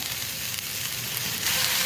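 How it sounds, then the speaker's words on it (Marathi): Tandulka greens stir-frying on an iron tawa make a dense, even hiss and sizzle that swells slightly louder toward the end, heard close up with no speech. "आता याच्यामध्ये मी भाजी टाकली, ती परतून घेऊया."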